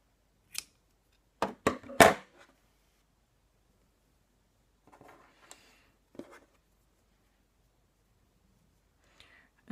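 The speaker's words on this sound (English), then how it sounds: "simply pull up the loop, and cut the yarn" Scissors cut crochet yarn in a few short, sharp snips close by, followed by quiet rustling handling and faint clicks in otherwise silent surroundings.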